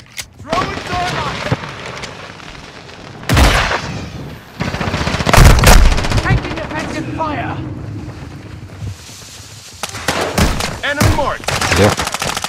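Gunfire in a video game: several loud, sharp bursts and booming shots separated by short gaps, with someone talking between them.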